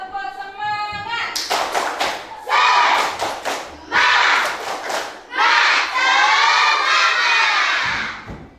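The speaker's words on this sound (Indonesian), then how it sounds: "Masih lemas, tepuk semangat." A classroom group of students claps and chants together in a loud, rhythmic spirit cheer. Bursts of clapping mix with shouting voices after a short spoken lead-in.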